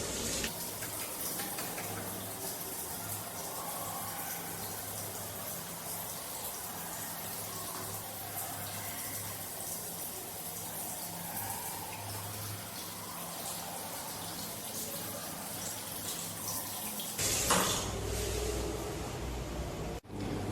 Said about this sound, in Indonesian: Lalu hidupkan keran air. Cuci tangan menggunakan sabun.